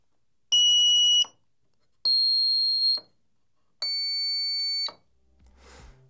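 Electronic buzzer transducers and an indicator sound in turn, three loud, piercing tonal beeps of about a second each with short gaps between, the last one longer, followed by a brief rustle.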